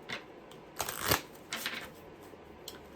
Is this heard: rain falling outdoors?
no